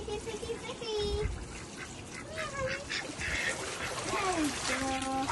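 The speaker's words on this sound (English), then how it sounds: "Been playing with a proper duck instead of a yellow duck" A duck beside a koi pond gives several loud, nasal quacks and honks spread through the clip, close by over a background of splashing water and ambient outdoor noise.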